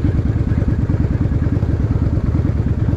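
A car engine pulls away from traffic lights, a loud, steady low rumble close by that holds a throbbing, slightly clattery tone throughout with no talking.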